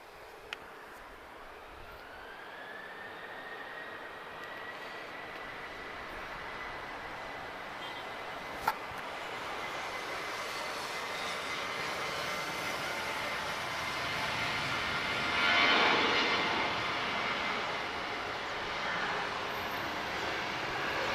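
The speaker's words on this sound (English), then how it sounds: "So, you won't be shocked to know this is a 737-800 operated by Malta Air." A Malta Air Boeing 737-800 departing Lisbon airport, its engine roar building gradually with a rising whine, then swelling louder near the end as it passes at a distance.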